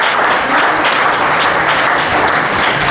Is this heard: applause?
yes